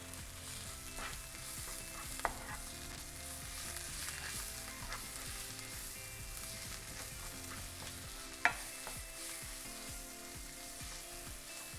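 Black bean taco filling ingredients mixed together in a pan, a quiet, steady sizzle with soft scraping from stirring and a couple of sharp clacks of the utensil.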